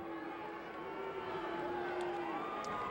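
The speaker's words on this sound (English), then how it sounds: "The crowd kind of booing Nick for getting out on the concrete" Broadcast wrestling arena crowd at a 1982 Memphis match between Jerry Lawler and Nick Bockwinkel, a steady roar of disapproving noise from the audience with a sustained tonal whine running through it.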